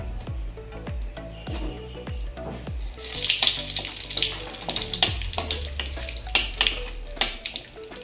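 Two bay leaves dropped into hot oil left from frying shrimp, for a ridge gourd and shrimp curry. A run of low thuds and clatter gives way to a bright crackling sizzle with stirring, close and without talk.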